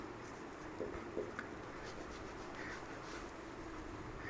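Pen or chalk writing out a physics numerical problem on two charges, faint soft scratching and rubbing strokes in a quiet room with a low background hum.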